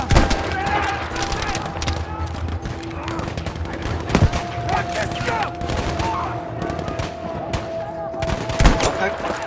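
Heavy gunfire from big guns rattles through a Battlefield V battle, with dense bursts, volleys and sharp booms running continuously amid the loud din, and a voice speaking briefly among the shots.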